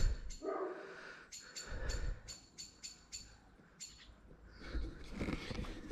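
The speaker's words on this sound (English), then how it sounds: "There's a fucking noisy little bastard of a bird up there." A small, noisy bird calls from somewhere overhead outdoors, giving a string of short, sharp chirps at fairly regular intervals over a rough, rumbling background.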